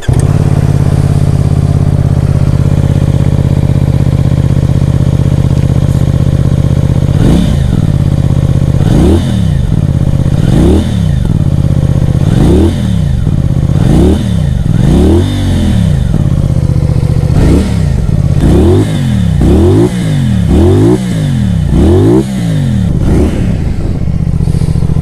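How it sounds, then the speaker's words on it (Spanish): A CF Moto 450 SRS motorcycle idles with a steady low engine and exhaust rumble, then is revved repeatedly in sharp rising and falling bursts that grow more frequent toward the end, loud and close with no talking. "Uno de los detalles que más me gusta de esta motocicleta y es justamente el sonido tanto del motor como del escape."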